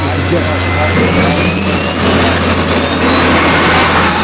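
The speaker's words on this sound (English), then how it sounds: "They're spooling up the jet. They do it with compressed air." A jet engine on a model at a windy 1997 national meet spools up after a compressed-air start, a loud, rising whine with strong low roar, sustained and close.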